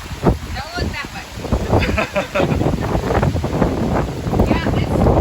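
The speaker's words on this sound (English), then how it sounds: "Yeah, it's still really windy. The gusts are really picking up." Strong gusts of Hurricane Sally roar across the microphone in Fairhope, Alabama, a steady rushing blast that swells and buffets throughout, with voices talking beneath it.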